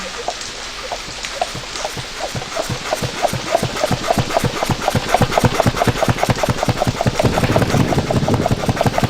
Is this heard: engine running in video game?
yes